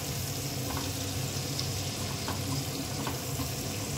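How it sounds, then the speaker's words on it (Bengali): Turmeric and chili powder fry in oil for a pickle, giving a loud, constant close sizzle with faint scraping from stirring and no voices. "এটাকে আমি হালকা করে একটু ভেজে নেব।"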